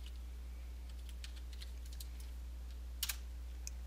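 Typing a command on a computer keyboard: a scattering of light key clicks over a steady low hum, with a quick pair of sharper taps near the end.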